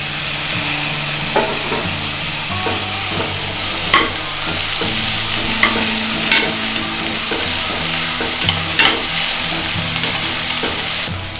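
Chopped onions sauté in a pan for moong dal khichdi as tomatoes go in, a loud, continuous sizzle broken by sharp spoon taps and scraping strokes against the pan; no talking.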